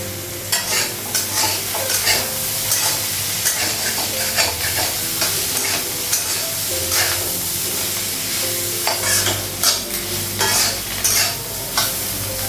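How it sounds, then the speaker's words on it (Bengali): Banana slices fry in hot oil in a pan at home, giving a steady, close sizzle with occasional stirring scrapes and soft music playing underneath. "কলা ভাজাটা হয়ে গেছে"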